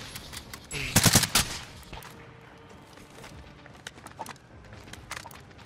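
Gunfire in a multiplayer shooter game, a tight burst of rapid shots near the start followed by scattered fainter reports and clicks, with faint voices under it.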